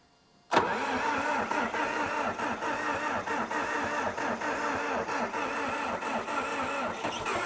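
A bulldozer's diesel engine, fed a shot of ether after stalling mid-job, cranks and catches at once, then runs loud and steady with a rough, rhythmic clatter throughout.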